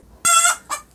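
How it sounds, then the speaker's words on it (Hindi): A hen cackles in two sharp bursts, a loud longer squawk followed by a shorter one, near and alone. "ये तो मुर्गी की आवाज है। This is called the CACKLING,"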